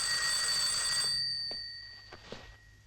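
A telephone in a 1976 film rings with a bright, sustained bell tone for about a second, then cuts off, leaving a quiet room with a few faint clicks.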